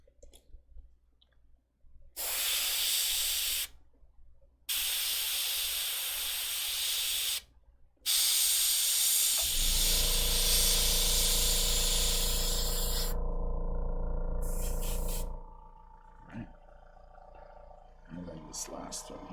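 An airbrush sprays paint through a stencil to build up the edges of painted teeth. Short close hissing bursts are followed by a longer continuous spray over a low humming drone.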